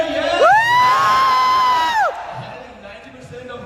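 A crowd at a Start-up Conference at BasisSoftExpo in Bangladesh cheers loudly, with one sustained high yell or whoop over the cheering for about two seconds before the noise drops back to murmuring.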